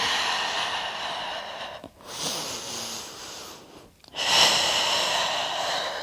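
Breathing during a Pilates exercise with weights, with two long, loud exhalations close to the microphone and audible breath noise between them, separated by brief pauses.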